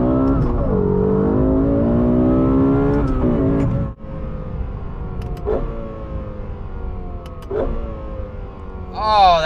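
Lexus LFA V10 engine under way on an open road, a loud continuous drone rising and falling in pitch through gear changes, with a sharp high rev burst at the end.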